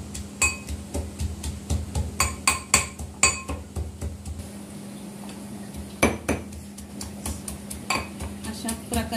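Coriander, a piece of ginger and a handful of garlic are pounded in a stone mortar with a pestle, making repeated sharp knocks and clinks in an uneven rhythm, close and clear, with faint talk in the background.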